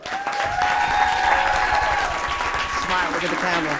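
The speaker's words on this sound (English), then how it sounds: "Big nice applause." Applause at an award ceremony for champion athletes, a crowd clapping steadily and close by, with voices and cheering rising over it.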